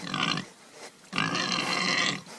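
Two loud, nasal, snorting grunts from a voice imitating a pig-like Gamorrean, a short one and then a longer drawn-out one after a brief pause.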